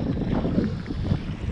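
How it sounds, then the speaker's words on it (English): Strong coastal wind during a sea kayak landing at Kangaroo Island, a steady loud roar buffeting the microphone with a low rumble throughout and no talking. "This is like the windiest of the entire day."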